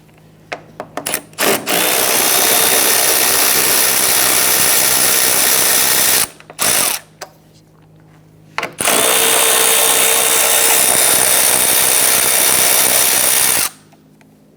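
A power tool loosening and removing a radiator bracket bolt on a 2011-2019 Ford Explorer, running in two long, loud, steady whirring bursts with short stuttering pulses around them.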